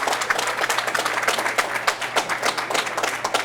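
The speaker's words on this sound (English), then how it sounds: "And the crowd applauding." A crowd at the 2011 US Open 9-Ball Championship pool match applauds, giving dense, steady, loud clapping that lasts throughout with no voices on top.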